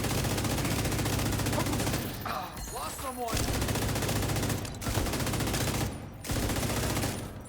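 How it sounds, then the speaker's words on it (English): A light machine gun in a video game fires long continuous bursts, dense rapid rattling that stays loud with brief pauses between strings, with talk over the shooting. "Let's actually use this LMG on my back."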